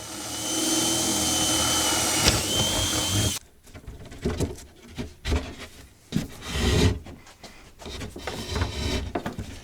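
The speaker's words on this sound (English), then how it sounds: "drill a hole for the power cord to come through" A power drill whines steadily for a few seconds boring a hole for a power cord in a shop air cleaner build, then stops, followed by scattered rubbing, scraping and handling noises.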